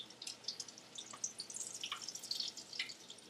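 Grease drips off a cooked egg fried in bacon fat, a run of quick, faint, irregular close-up drips and small splats, scattered lightly with no speech.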